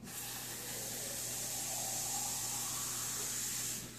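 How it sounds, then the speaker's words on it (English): Warm water poured from a tap or jug into a baking tray set for an oven-roasted chicken drumstick dish, a steady soft hissing stream that runs continuously and quietly throughout. "I'm going to fill the tray with the water"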